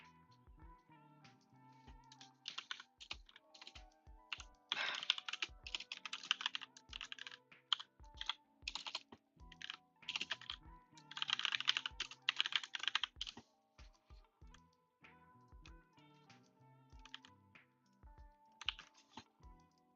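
Rapid keystrokes on a computer keyboard come in uneven bursts and pauses, crisp clicks close by and fairly quiet, with no voices over them.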